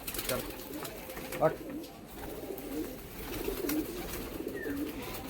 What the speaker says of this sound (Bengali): দাদা পায়রাগুলো ঘরে ঢোকাচ্ছেন